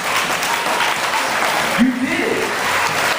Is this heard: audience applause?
yes